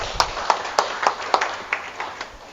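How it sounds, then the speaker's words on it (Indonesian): Congregation at a church sermon clapping for God, a thin, loose round of separate sharp hand claps at a steady pace, moderately close and fading slightly toward the end. "kita beri tepuk tangan untuk Tuhan"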